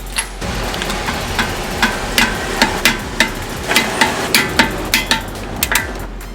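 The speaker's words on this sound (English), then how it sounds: "Now I'm gonna use my snap-on click torque wrench to torque these down to 85 foot-pounds." Repeated sharp metallic clicks from a Snap-on click-type torque wrench tightening a car's lug nuts to 85 foot-pounds after a flat tire patch, about a dozen crisp close clicks in an uneven rhythm over low background noise.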